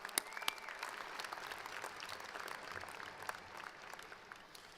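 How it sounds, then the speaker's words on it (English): Applause from a large crowd of graduates at the 2019 University of Idaho spring commencement, a sustained, dense patter of clapping filling a big hall at moderate distance, steady throughout and slowly thinning toward the end. "Graduates, join me in thanking your support network for their commitment to you with a round of"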